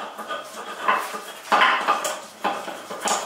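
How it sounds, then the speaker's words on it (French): Garlic, pepper and ginger are crushed on a grinding stone in a series of gritty, scraping strokes, each rising and fading in uneven rhythm, close and moderately loud with no voices. "nous allons écraser l'ail, le poivre et le gingembre"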